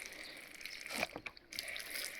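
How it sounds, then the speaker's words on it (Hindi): Water sprinkled like a shower over moist seed-starting soil mixed with fungicide and sand for persimmon seeds, a soft steady trickle and patter with a brief louder splash near the middle. "तो देखिए पानी भी हमें उस तरीके से ही डालना है जैसे फुवारे से"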